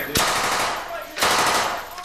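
Blank rounds fire during urban combat training, two sharp, loud bursts of gunfire close by, about a second apart, each trailing off into echo.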